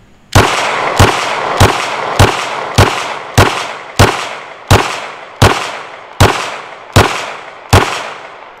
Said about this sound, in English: we'll shoot the rubber dummy